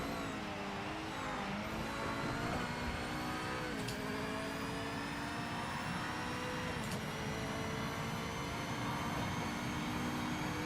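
Race car engine in Project Motor Racing, heard from an open cockpit with no roof, drones with steady harmonic tones under a constant rush of wind, with occasional shifts in pitch across the whole stretch.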